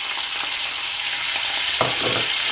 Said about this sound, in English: First I am going to fry our ginger, garlic, green chilli and dry chillies.